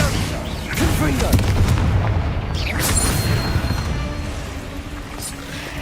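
Spell explosions cast in the Hogwarts Legacy video game burst as several loud booms and blasts, dense and close, with a crackling rumble carrying through the whole stretch.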